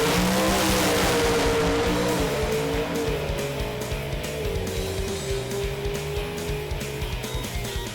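Mountain Motor Pro Stock drag cars in the finals roar loudly, engines howling and rising in pitch as they launch and pull away down the strip, a continuous heavy motor blare with no talk.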